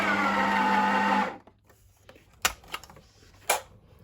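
A Ninja blender whirs loudly while mixing flour-chips dough, then cuts off abruptly after about a second, leaving a few sharp clicks and knocks in the quiet.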